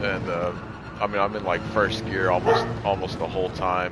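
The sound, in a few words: dog barking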